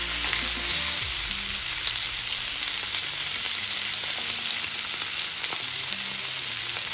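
Steady, dense sizzling of salmon frying in a hot pan, continuous and close, with a faint low hum underneath.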